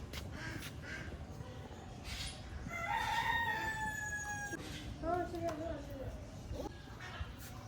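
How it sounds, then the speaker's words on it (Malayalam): A crow caws a few times outdoors during a weekend outing, harsh calls rising over a low ambient hum, with people speaking nearby. "അതെ, ഇത് നമ്മുടെ സ്വന്തം കാക്ക."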